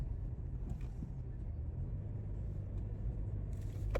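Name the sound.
car interior while driving, a rented black Camry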